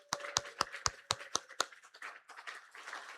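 A church congregation welcomes its youth and children with applause: about seven sharp, evenly spaced claps ring out close and distinct, then give way to a softer, scattered patter of hands and murmur.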